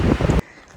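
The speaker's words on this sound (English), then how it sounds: "You can hear the wind ripping above us." Stormy wind rushes loudly in the Montana backcountry mountains during a thunderstorm, a dense roaring gust that cuts off abruptly partway through and leaves only a faint, low background rumble.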